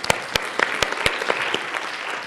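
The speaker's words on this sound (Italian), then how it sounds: "applauso." Brief applause from a workshop audience at a 2011 communication event in Italy, a few sharp claps standing out over a soft spread of clapping, moderately loud and without talk.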